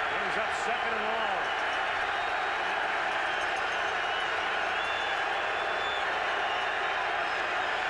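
Roaring stadium crowd at a 2009 CFL football game between the Edmonton Eskimos and Saskatchewan Roughriders: a loud, continuous wash of crowd noise, steady and unbroken, with a commentator's voice briefly audible early on.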